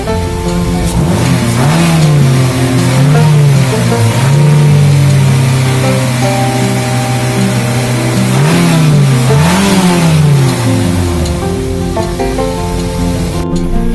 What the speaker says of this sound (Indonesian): bisa diketahui dengan suara mesin yang halus